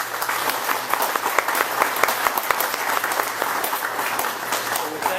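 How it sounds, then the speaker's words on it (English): Dense audience applause at a job announcement event, with many hands clapping steadily and loudly for several seconds, no voices over it. "So I applaud."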